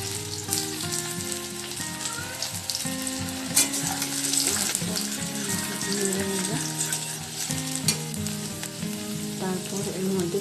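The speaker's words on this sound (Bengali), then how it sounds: "তেলটা গরম হলে এর মধ্যে আদা ছেড়ে দেবো।" Ginger drops into hot oil and fries with a loud, crackling sizzle that runs throughout while a spoon stirs. Background music plays underneath.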